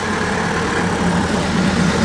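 Vintage GN Gypsy car with an aero engine running at a Loton Park hillclimb, a loud, steady, throbbing engine note close by with no speech.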